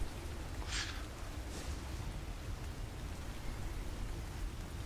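Steady rain forms a dense, even hiss throughout, with no voices and no distinct events standing out.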